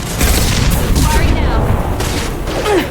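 Heavy gunfire in the video game Mass Effect 2 booms and crackles as a near, continuous volley across a few seconds, with voices speaking amid the shooting.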